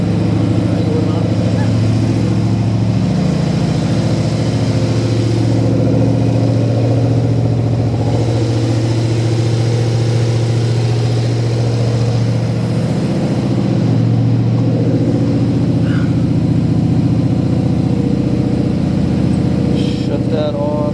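Engine of a 1974 De Tomaso Pantera idling steadily and loud, a continuous low drone with faint speech mixed in.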